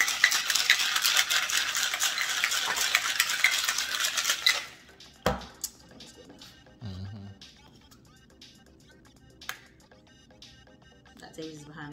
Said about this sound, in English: And then you shake it up.